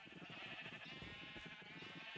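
Minecraft sheep bleat in a quiet, repeated series of short wavering calls, several overlapping as if a small flock stands close by, with no talking.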